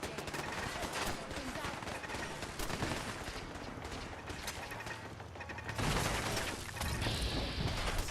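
Gunners open fire in Fallout 4, with rapid bursts of automatic gunfire and scattered shots crackling through a busy game soundscape at moderate volume, partly under a voice talking.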